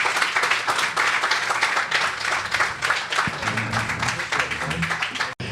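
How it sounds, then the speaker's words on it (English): A roomful of people applauding an honoree, with dense, fairly close clapping that holds steady for several seconds before breaking off abruptly. "Let us give you a round of applause."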